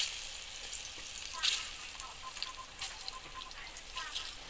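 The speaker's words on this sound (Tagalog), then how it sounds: "Ipiprito muna natin guys ang ating saging" Banana pieces fry in hot oil in a pan, giving a soft, steady sizzle with small crackling pops, one brief sharper spatter burst, heard quietly and close.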